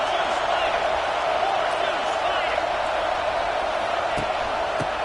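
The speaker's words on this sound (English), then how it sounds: "It's early, but this crowd is fired up. Listen to this noise here." Stadium crowd at an early-game football matchup, a steady, dense roar of many voices holding at an even level throughout, with a few faint thuds and shouts poking through the wash of noise.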